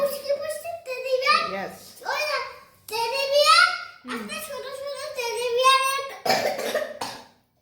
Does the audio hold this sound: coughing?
yes